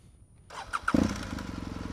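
A BMW R1200GS motorcycle engine cranks and fires up, catching after a brief whir and settling into a steady, close, throbbing idle.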